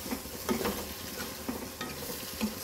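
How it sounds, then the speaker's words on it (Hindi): Chickpeas are stirred into fried masala in a pan, a steady sizzle of frying with scraping spoon strokes and soft patter, close and alone without talk. "मसाला भून चुका है, अब हम चने शामिल कर देंगे।"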